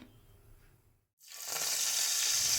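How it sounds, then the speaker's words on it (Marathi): Cumin and fresh coriander hit hot oil in a kadhai for a tempering, bursting into a loud, steady sizzle after a brief quiet gap and continuing strongly to the end. "कढईमध्ये तेल तापून झाल्यावर त्याच्यामध्ये मी जिरं आणि कोथिंबीरची छान अशी फोडणी दिली"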